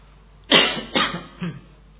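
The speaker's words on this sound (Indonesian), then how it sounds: "Tapi karena di sini batuknya agak digaya-gayakan." A man gives three short, deliberate coughs in a row, close and clear, each a little softer than the one before.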